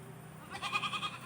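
A goat gives a single wavering bleat of about half a second, pulsing and moderately close, against a quiet farmyard background.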